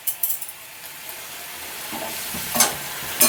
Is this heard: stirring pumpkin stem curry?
yes